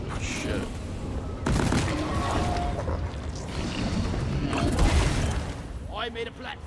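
Dense bursts of video-game gunfire rattle almost continuously, with heavy booming shots and mechanical clatter, loud and close, with a voice talking over the fighting.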